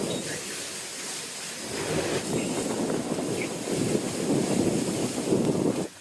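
Strong wind roars across the microphone on a sailboat in stormy weather, a continuous loud rushing that builds and stays heavy throughout, with no talk.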